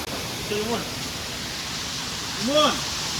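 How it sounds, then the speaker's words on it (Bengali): A jungle waterfall rushes down a hillside as a steady, broadband roar, with a person briefly calling out over the water twice. "পুরো পাহাড় থেকে জল আসছে পাহাড় থেকে"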